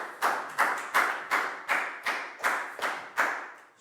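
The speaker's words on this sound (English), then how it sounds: "High five and a big round of applause for Net" Schoolchildren in a Year 4 classroom clap together for a classmate, about ten sharp, evenly spaced group claps in a steady rhythm, close and alone with no talk.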